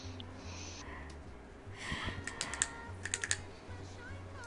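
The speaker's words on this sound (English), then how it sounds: "Stop clicking the pen." Quick, light plastic clicks of a pen being pressed repeatedly come in small irregular bursts, close and sharp over a faint low hum and soft background noise.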